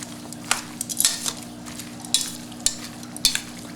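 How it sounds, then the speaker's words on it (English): Long rice noodles being stirred and tossed into a vegan cucumber salad for a Chinese New Year dish, with soft wet mixing swishes and occasional light clinks of utensil against bowl, close and steady without talk. "I'm adding the long rice, mixing it into the cucumber salad."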